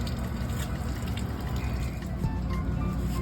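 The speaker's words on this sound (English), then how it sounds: "you'll see all the water from your fresh water will start draining" Fresh water draining steadily from an RV's plumbing lines during winterization, a continuous low watery rush with faint trickling, fairly close and unbroken.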